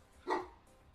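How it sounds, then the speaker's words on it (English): A single sharp bark from a dog indoors, close and loud, followed by a faint trailing whimper-like tail and near silence. "My dog is yelling at me."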